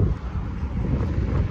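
Wind blows outdoors straight into the microphone, a heavy, low rumbling buffet that pulses continuously throughout, loud and close with no talking.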